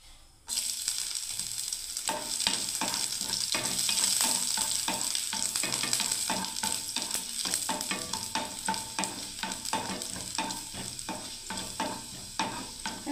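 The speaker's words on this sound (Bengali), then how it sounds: "রসুনটাও ভালো ভাজা হয়ে গেল" Garlic fries in a pan with a continuous close sizzle, broken by rapid, repeated scraping strokes of a spatula stirring throughout.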